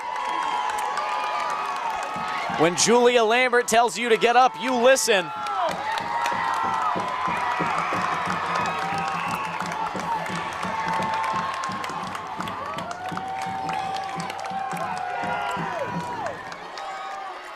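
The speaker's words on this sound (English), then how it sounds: "The crowd is up to their feet." High school football crowd at a Wilmington versus Old Rochester varsity game cheers and claps on its feet late in the fourth quarter, a sustained roar under a commentator's voice, with a rhythmic rattling burst early on.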